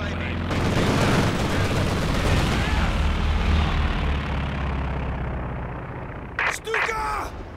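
A Stuka dive bomber attacks during a Company of Heroes 2 Soviet campaign battle, a loud, sustained roaring rumble with gunfire and booms beneath it, easing off before a few sharp closing bursts.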